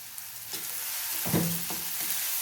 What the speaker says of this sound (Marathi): कांदा परत ना त्यात थोडंसं मीठ घालूया म्हणजे कांदा लवकर